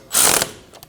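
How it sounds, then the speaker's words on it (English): Ratchet snugging the wheel bearing bolts on a 2012-2022 Volkswagen Passat front hub assembly, a short burst of rapid metallic clicking that runs close and loud, then fades into a few faint ticks. "Snug the wheel bearing bolts down in a cross pattern."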